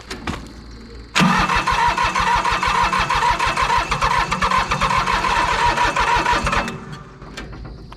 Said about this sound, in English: So let's go ahead and try and start this thing back up.